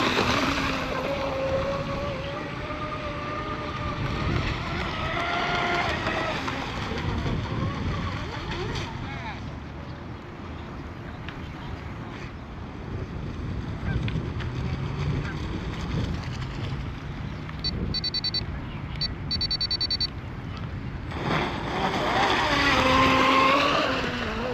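An American-made J&R Marine H26 RC hydroplane races on open water while its motor sends out a steady, fairly loud buzzing whine that swells and fades as it passes. Wind rushes across the microphone and people talk nearby.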